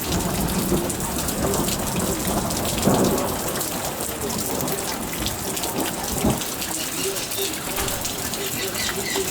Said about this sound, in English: You've got pouring thunder.